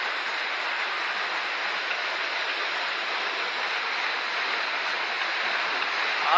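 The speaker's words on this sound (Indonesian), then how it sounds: "sekarang kita betul-betul dekat di air terjun sama Abang Rana." A waterfall heard up close as a steady, dense rushing roar of falling water, constant and unchanging, with no voices.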